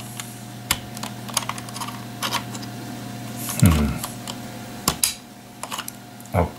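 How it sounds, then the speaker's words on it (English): Keys on a Zenith Data Systems RS 6000 keyboard, a special-designed mechanism with no springs or rubber domes, clack in irregular, close, distinct presses, with a steady low hum in the background and no speech. "Let me show you the mechanism of the keyboard."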